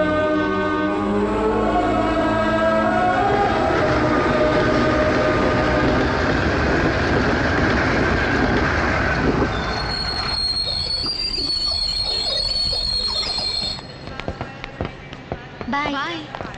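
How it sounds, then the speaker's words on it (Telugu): Train pulling into a station with loud squealing wheels and a heavy rumbling roar, a bright metallic screech rising near the end before things quiet, with voices talking over it. "ట్రైన్ వచ్చేసింది, పద."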